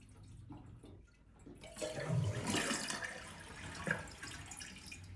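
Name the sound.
water draining from a Kohler toilet tank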